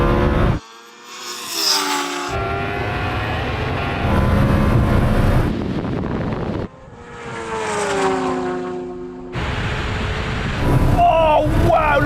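A Lamborghini Huracan Turbo and a Kawasaki H2R in a drag race scream past, engines revving hard through rising gear pulls and sharp shifts, loud and close, with excited voices talking over them.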